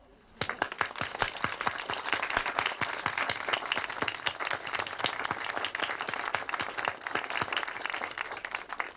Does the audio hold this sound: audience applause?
yes